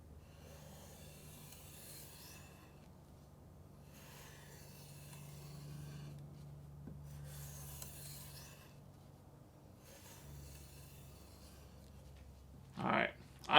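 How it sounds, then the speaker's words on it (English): Butter knife being stropped after sharpening, giving soft rhythmic rubbing strokes in repeated bursts of about a second each, faint and close, separated by short pauses. "let's go ahead and do a little strop"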